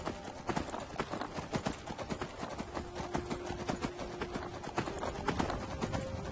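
Horse hooves clip-clop steadily in Skyrim, a quick rhythmic string of hoofbeats over a low game ambience with a faint sustained tone, moderately loud and close.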